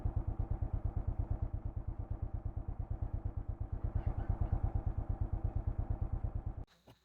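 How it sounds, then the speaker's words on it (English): A motorcycle engine idles steadily and close by, with a fast even thumping pulse, for about six seconds before it cuts off abruptly while being parked at a forest lodge. "Let me park my bike first."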